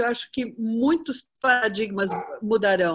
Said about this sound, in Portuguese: desculpa o cachorro, tá?